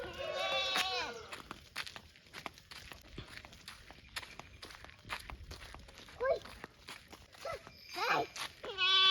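A young goat bleats a few times outdoors, wavering cries near the start and again toward the end, between scattered footsteps and rustling, with a person talking quietly in between.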